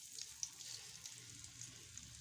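Black-eyed pea mirchi vada frying in hot oil, a soft, steady close-up sizzle with faint crackling pops, quiet and continuous.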